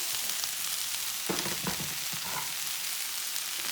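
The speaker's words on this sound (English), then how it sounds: "So we're going to add the rest of the spring onions in" Spring onions go into a sizzling Chinese pork stir fry, a constant close, loud frying hiss with a few brief clattering stirs and tosses in the middle, no voices.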